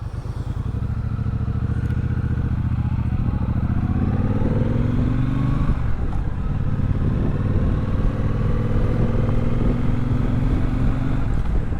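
A motorcycle engine drones loudly on a road route around an island, revving up through gear changes with steady wind buffeting and no talking.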